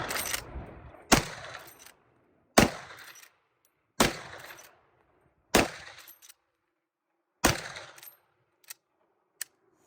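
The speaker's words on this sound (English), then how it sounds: "6 rounds, hand loads out of the Marlin 1895." Six loud, sharp rifle reports ring out at regular intervals from a Marlin 1895 lever-action in 45-70 firing hand loads from the hip, each shot followed by a short echo and the clack of the lever cycling.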